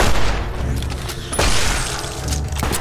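Gunfire in Fallout New Vegas: heavy booming shots, one near the start and another sharp blast partway through, over a dense rumbling game mix with a lower thud near the end.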